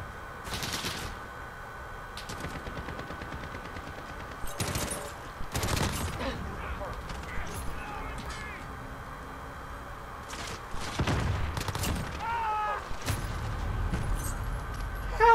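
Gunfire in a Call of Duty match, scattered sharp shots and short bursts at varying distances over a busy game background.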